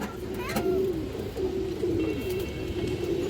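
Several domestic pigeons, mostly hens of an old breed, coo in soft repeated rolling calls close by, with faint chirps from other birds and a steady low background hum.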